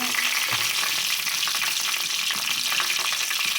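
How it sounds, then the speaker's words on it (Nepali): Cumin seeds and two chillies fry in a small pan, giving a continuous dense sizzle with light crackles and no voices. "पेनमा जिरा राखेको छु"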